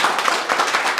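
A short burst of audience applause: many hands clapping in a dense, steady patter for about a second, with no voices over it.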